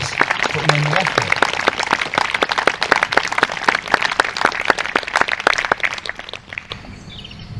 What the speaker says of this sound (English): give them a round of applause for the little ones like this, putting in the effort